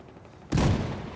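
Gunfire in the video game Battlefield 4 during a competitive Polish league match: a single loud, sharp blast erupts midway and rings out with a broad, decaying roar.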